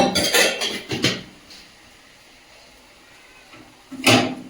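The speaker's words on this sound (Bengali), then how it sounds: "আস্তে বেসিনটা একটু মেজে নিই।" Scrubbing a kitchen sink basin, clattering scrub strokes in bursts near the start, a quiet pause, then another short loud scrubbing burst, close by.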